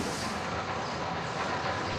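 A slow goods train rolls along the rails at a rail yard, making a steady, continuous rumble with a hissing wash throughout and no voices.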